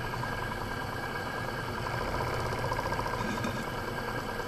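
A small double-acting twin-cylinder steam engine runs on live steam at about 20 psi, giving a continuous dense chuffing rattle with a fast even beat that stays level and close, with no talking.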